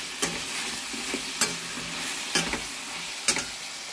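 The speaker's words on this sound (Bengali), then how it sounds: "ভাজাটা হোক ততক্ষণ" Mixed vegetables fry with turmeric, spiced paste and a little yogurt in a pan, a steady sizzle broken by four sharp clinks of a spoon stirring, close and alone without voices.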